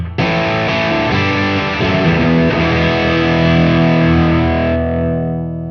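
An electric guitar played through a Distortion 3 pedal rings out with thick, saturated strummed chords, a few quick changes, then one sustained chord decays and cuts off.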